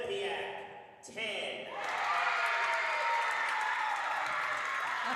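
Crowd at an acrobatics and tumbling meet between Quinnipiac and Limestone, cheering and applause swelling after a short lull into a loud, sustained roar of clapping and shouting for a perfect 10.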